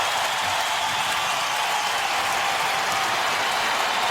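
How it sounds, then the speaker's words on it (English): Arena crowd at an NHL hockey game between the Philadelphia Flyers and Detroit Red Wings applauds a player heading to the bench, a dense, steady wash of clapping and cheering that holds loud and even throughout. "makes his way to the Red Wing bench to a nice round of applause here"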